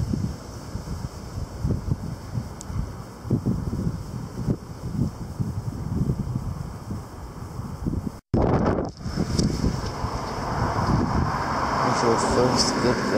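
Strong storm wind buffeting the microphone in rough, uneven surges, with a brief dropout partway through and then a steadier, louder roar; a voice seems to speak faintly underneath.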